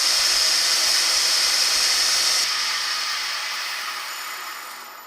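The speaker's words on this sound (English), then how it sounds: "Spin the lathe and just rub it back very lightly" A wood lathe spins a bowl while it is rubbed lightly with 0000 wire wool, giving a loud, hissing, even whir that cuts off abruptly and then slowly winds down, with no talk.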